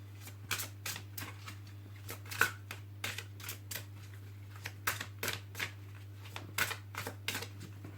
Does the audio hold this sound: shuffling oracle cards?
yes